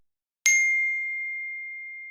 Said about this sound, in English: Don't forget to hit the bell notification.